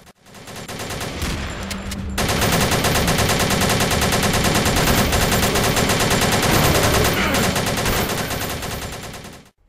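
Dense, relentless gunfire in the underground shooter Putrefaction, rapid continuous automatic bursts filling nearly the whole stretch, loud and close after a brief quieter opening.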